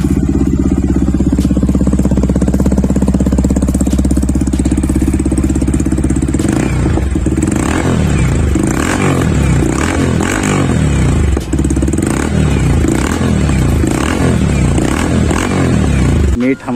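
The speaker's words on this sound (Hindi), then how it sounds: "बाइक को पहले स्टेबल में साउंड सुनते हैं इसकी" A modified Yamaha MT-15 motorcycle engine idles with a steady, lumpy throb, then gets blipped repeatedly, each rev rising and falling sharply, loud and close with some voices underneath.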